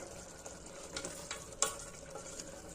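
A tomato bath mixture fries quietly in a pan with a soft, constant sizzle, broken by a few faint scrapes and one sharper tap of a utensil.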